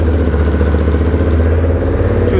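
A Triumph Bobber fitted with a Motone H-Bomb exhaust runs at low revs, giving a steady, close, mid-low engine drone with a slight clattery texture and no talk.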